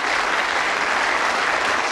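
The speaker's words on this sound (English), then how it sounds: "a round of applause of encouragement for Mr." Studio audience applauding to encourage a contestant, Lance Percival, on a darts game show, a dense steady wash of clapping sustained throughout, loud and close with no talk.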